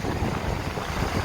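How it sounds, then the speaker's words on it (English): Strong wind roaring across the microphone on a beach at Stockton in a dense, steady rush, with a faint wash of surf beneath it and no voices. "Still windy"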